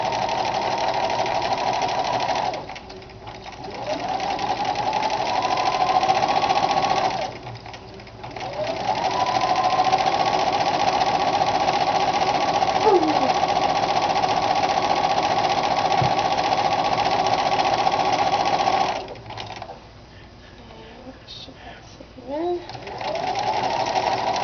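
Sewing machine stitching a Kapp Cap style Christian headcovering, running in long steady buzzing bursts with several brief pauses between runs, close and alone.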